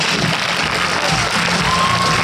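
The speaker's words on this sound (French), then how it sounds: "Applaudissez-les" Audience applause at a film premiere for Gérard Jugnot and Bernard Lecoq, a steady dense wash of clapping filling the room with faint cheering, loud and continuous.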